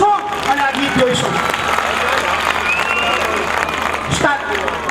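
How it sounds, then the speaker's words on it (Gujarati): Audience applause for performers at a devotional song and comedy stage show, a dense spread of clapping lasting several seconds with a voice talking over it. "આપણે એકવાર ફરીથી આ બધા કલાકારો માટે જોરદાર તાળીઓથી વધાવશું"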